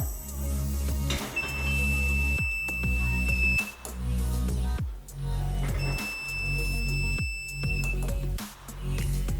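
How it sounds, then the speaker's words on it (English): A homemade earthquake sensor alarm sounds in two bursts of shrill electronic tone over a steady hum, separated by knocks and rattles. "And the second one is earthquake sensor alarm."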